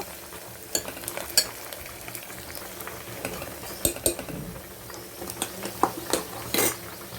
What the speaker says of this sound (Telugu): ఉల్లిపాయ ముక్కలు బాగా వేగిన తర్వాత